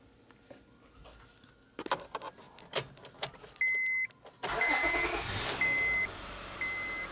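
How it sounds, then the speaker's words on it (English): Scattered clicks and knocks come first, then a 2006 Honda Odyssey engine, with its battery warning light staying on, turns over and settles into a steady running hum, with repeated short electronic chimes over it. "So now I'm going to go inside the vehicle and start the engine."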